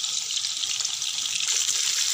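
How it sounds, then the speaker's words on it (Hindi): Fish frying in a pan of hot oil over a medium flame, a close, steady hissing sizzle that runs evenly throughout with no voices. "गरम करने के बाद हम डालेंगे इसमें फिश, और करेंगे हम फिश को मीडियम फ्लेम पे फ्राई।"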